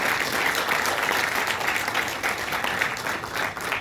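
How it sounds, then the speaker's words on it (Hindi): Loud, sustained applause from a ceremony crowd honouring coaches and parents at a Special Olympics Bharat event, a continuous wash of many hands clapping throughout. "हमारे इन कोचेस और अभिभावकों के लिए बहुत जोरदार ताली"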